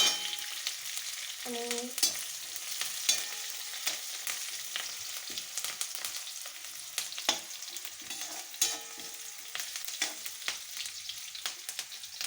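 Curry leaves dropped into hot oil crackle and sizzle steadily, with light stirring scrapes in the pan throughout; a single word is spoken softly near the start.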